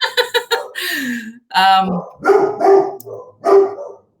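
A dog barks a few quick times, then a person talks over further barking, both close by.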